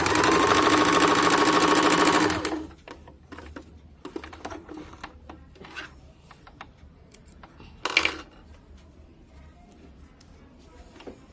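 A sewing machine runs in a loud, steady burst while stitching a choli blouse, then stops, followed by quiet scattered clicks and handling of cloth and tools, with faint background voice.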